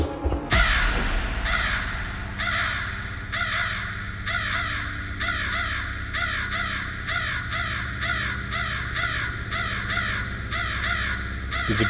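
Crows caw repeatedly in The Stanley Parable video game, a loud, steady run of harsh calls in quick rhythmic bursts that continues throughout with no talking.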